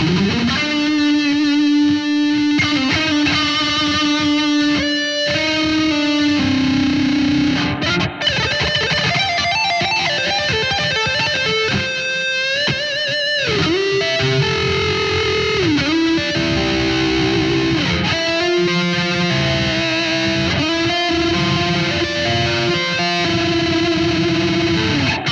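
A distorted Ibanez Xiphos Iron Label XPIR20E electric guitar plays a lead line with bends and sustained notes over a driving backing, loud and continuous throughout.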